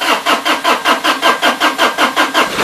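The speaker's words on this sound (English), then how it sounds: "So we'll crank it over with no glow plugs," A diesel mower engine cranks over without glow plugs, the starter giving a steady, regular chugging of about a dozen evenly spaced compression pulses, loud and close, with no voices.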